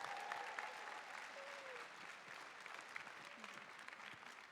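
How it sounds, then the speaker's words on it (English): An audience applauds themselves at UC Berkeley's Pilipinx Cultural Night 2022, the first in-person show on that stage in three years, with continuous crowd clapping and faint vocal murmurs mixed in. "Give yourselves a round of applause."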